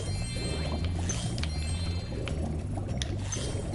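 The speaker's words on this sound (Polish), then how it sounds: "Dobra, pływamy pod wodą." Swimming underwater in Spyro 2: Ripto's Rage Reignited, a muffled game soundscape with a steady low drone, soft bubbling and occasional tinkling chimes, unbroken and fairly loud.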